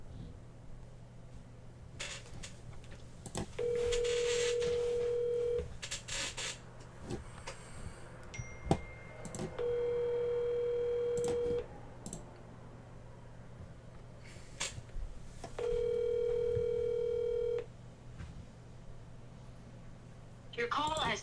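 An outgoing phone call rings unanswered, three evenly spaced two-second ringback tones over a faint background hum and scattered low noises.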